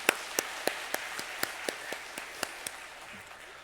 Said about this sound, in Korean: 우리 한번 성가대를 향해서 박수 한번.